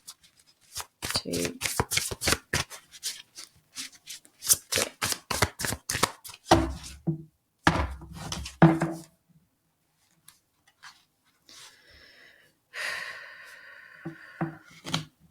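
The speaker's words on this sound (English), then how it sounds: "3 more shuffles." Tarot cards riffled and shuffled close up in quick rapid bursts, several runs of crisp flapping separated by pauses, with a voice briefly counting between them.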